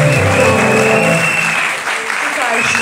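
A church congregation bursts into loud, dense applause, with voices cheering and speaking over the clapping throughout.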